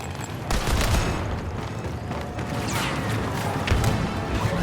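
A grenade blast in Star Wars Battlefront II on the Death Star, a loud crash with a low boom amid continuous blaster fire and battle noise, heavy and dense throughout.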